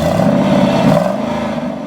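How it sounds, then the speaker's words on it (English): A 385-horsepower 5-liter engine in a 2011 Jaguar XK convertible revving loudly nearby, a steady deep growl that swells briefly and then eases off, with no talking. "there's a 385 horsepower 5-liter engine, which of course you can't see, but which you can hear"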